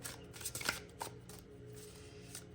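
Metaphysical cannabis oracle cards are shuffled by hand in a few quick riffling bursts, then a softer steady rustle, heard close and quiet with no talking.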